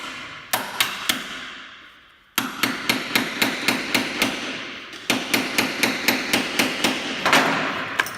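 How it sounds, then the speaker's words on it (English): A heavy hammer strikes an impact driver set on a bolt of a 140cc motorbike engine on a Dax-style monkey bike, about twenty sharp metallic blows, first spaced apart, then a steady rapid rhythm, loud and close. "Let's go get the world's biggest hammer and usable for the job."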